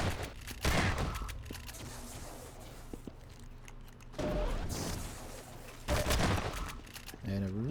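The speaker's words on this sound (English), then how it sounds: "And a really brutal shotgun shot" Shotgun blasts in the game Half-Quake boom out several times at irregular intervals, each a sharp heavy shot, amid other weapon fire and scattered game sounds.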